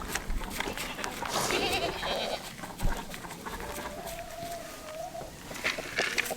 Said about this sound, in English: Go away, little goat. Go away.